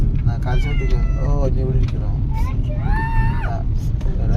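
A cat meows several times over a steady low rumble, the calls rising and falling, with muffled chatter in the background.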